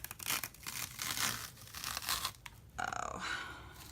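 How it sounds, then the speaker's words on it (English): Chalk Couture transfer sheet peeled off a surface, a near, continuous crackly tearing and crinkling for several seconds that shifts to a thinner, lighter peel near the end. "So I'm going to peel this off."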